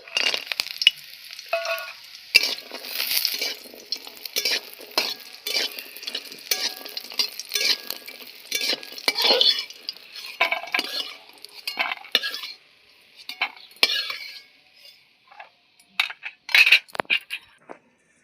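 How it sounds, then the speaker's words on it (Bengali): Bori (lentil dumplings) frying in a pan alongside dried red chillies, with a light sizzle under busy scraping and clattering of a utensil stirring against the pan, close and steady with brief pauses. "বড়িটা ভেজে নিচ্ছি"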